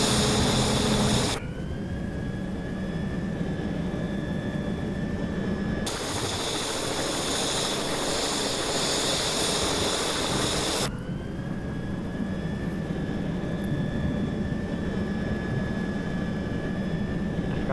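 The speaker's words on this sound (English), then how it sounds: "I forgot to make the helicopter lift off the ground." A video game helicopter's engine and rotor drone steadily and loudly, a continuous mechanical roar with no talk, its tone shifting abruptly twice as the sound cuts between segments.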